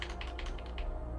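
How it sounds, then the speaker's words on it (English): Rapid keystrokes on a computer keyboard while entering words during play of the puzzle game Blue Prince, about five quick clicks at close range over a steady low hum, with no talking. "What am I typing?"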